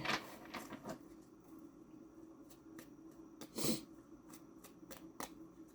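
Tarot cards are shuffled by hand at close range, a series of quick riffles and soft flicks with bursts at the start and midway, separated by quieter rustling pauses, no talking.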